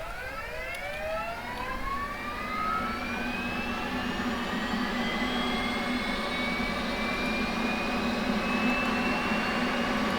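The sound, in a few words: F/A-18C jet engine startup in a flight simulator video game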